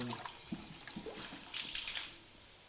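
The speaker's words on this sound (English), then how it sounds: "what I'm going to do is, first of all, just wash it out" Warm water runs and splashes over a workshop apprentice piece as it is washed, a steady tap-like flow with a louder, brighter gush in the middle before it eases off.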